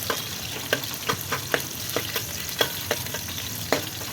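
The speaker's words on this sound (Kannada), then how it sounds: "ಒಂದು ಗೆಡ್ಡೆ ಈರುಳ್ಳಿ ಹಾಕ್ಕೊಂಡು ಎಣ್ಣೆಯಲ್ಲಿ ಫ್ರೈ ಮಾಡ್ಕೊಳ್ಳೋಣ" Sliced onion with cloves, cinnamon, cardamom and bay leaf sizzles in hot oil for tomato bath, a steady fry hiss broken by repeated sharp scrapes of a spoon stirring the pan, close and alone.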